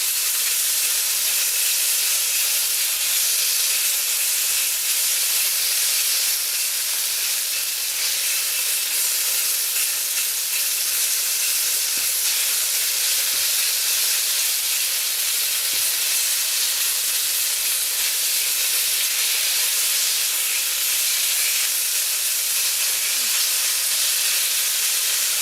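Beef sears hard in a hot wok for a stir-fried beef with broccoli, giving a loud, steady, continuous sizzle and hiss that holds evenly throughout with no pauses.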